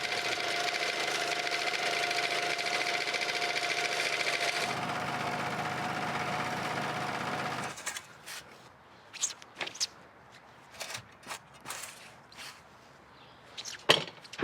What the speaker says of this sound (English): Or you can use a rented sod cutter. To use it, adjust the blade, engage it, engage the wheels, and squeeze the throttle.